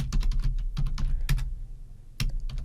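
Someone types a short Slack message on a computer keyboard, with quick bursts of clicking keystrokes, close and clear, a brief pause near the end and then a few more taps.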